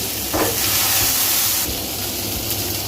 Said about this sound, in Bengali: এভাবে আমি 2-3 মিনিট মতো ভেজে নিব কচুগুলো